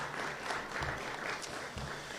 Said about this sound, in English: if everyone can give Kelly a round of applause for everything she's done for us